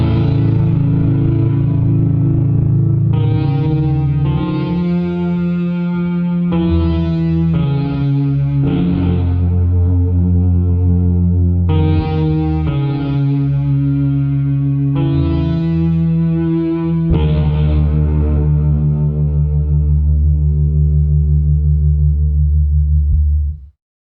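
The Choral crime preset of the free Witch Pig Kontakt instrument plays loud, distorted, echoing chord swells that shift every second or two over a sustained low drone, washed in reverb and chorus, with no voices over it.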